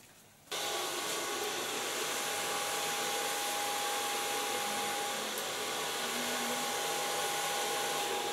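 A hair dryer switches on and blows steadily while drying hair, a loud, even whooshing roar that stays close and unbroken after a brief quiet start, with no voices.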